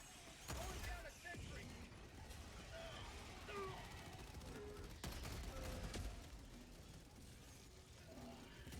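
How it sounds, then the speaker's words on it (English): Shots from the RS-422 railgun in Helldivers 2, with sharp bursts and impacts cutting through a dense, noisy battle bed of mechanical creaks and effects, while someone talks throughout. "Now I'm going to show you guys the RS-422 railgun"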